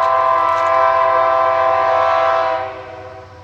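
A fast freight train led by a pair of AC44i locomotives passes through Limeira, Brazil, sounding a loud, sustained multi-tone air horn up close. The horn holds steady, then drops off in level near the end.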